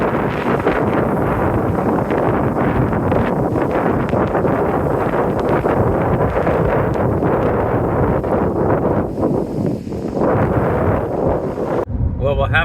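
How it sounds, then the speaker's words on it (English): Strong wind gusts across open country in Carson Valley, buffeting the microphone in a steady, dense roar that fills the whole stretch before cutting off abruptly near the end. "it sure is blowing, isn't it, Kelly?"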